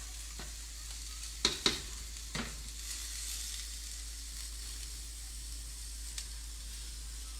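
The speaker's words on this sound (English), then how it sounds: "we're going to let this simmer for a couple minutes so all that nice seasoning can get all over these lentils" Lentils simmering with seasoning in a pan give a faint, steady hiss and sizzle, broken early by a few soft stirring clinks.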